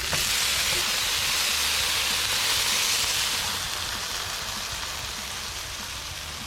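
Sausage patties on a Blackstone griddle sizzle in a loud, continuous, close hiss that eases off slightly toward the end, with no talk.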